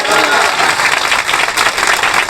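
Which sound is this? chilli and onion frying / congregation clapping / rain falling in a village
congregation clapping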